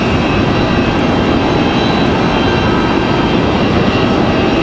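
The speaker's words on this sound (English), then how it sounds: "This is going to be Mesa 6074 coming in from Washington Dulles." A Mesa Airlines Embraer E175 regional jet arrives at Raleigh-Durham International from Washington Dulles, heard as a loud, steady broadband roar that holds unbroken throughout, with no talking.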